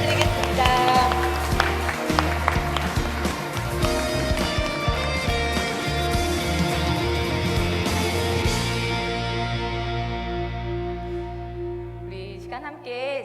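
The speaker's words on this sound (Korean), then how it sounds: "하나님 앞에 영광의 박수 올려드리겠습니다." A church congregation at a worship service claps in applause, a dense, lively patter of hands under music that gradually thins and fades toward the end.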